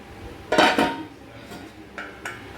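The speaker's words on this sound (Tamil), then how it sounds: "இப்போ நம்ம இதை மூடி போட்டு ஒரு 5 நிமிஷம் மூடி வச்சுக்கலாம்" A lid goes onto a pan of egg pepper masala: two sharp metallic clanks close together, then a couple of lighter knocks, close by with no talk.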